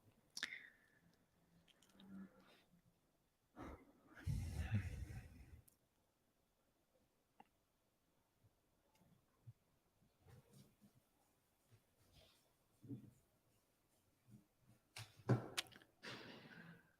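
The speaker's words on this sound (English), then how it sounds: "Nope, just chewing her bone." A puppy gnaws on a bone indoors, making scattered wet chewing and crunching bursts with quiet gaps between them, close and fairly soft.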